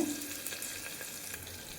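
Sliced onions fry in hot oil with mustard seeds, giving a steady, fairly quiet sizzle with light crackles and soft stirring noises close by, with no talking.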